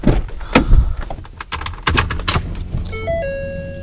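Keys jangling in short metallic rattles near a truck, followed by a door and a series of electronic chimes as the vehicle is started.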